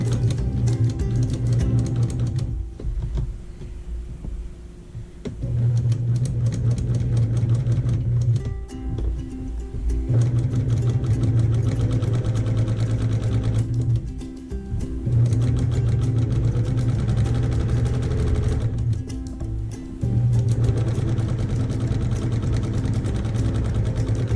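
A sewing machine stitches down a quilted table runner in steady whirring bursts of several seconds each, separated by brief pauses, loud and close with no talking.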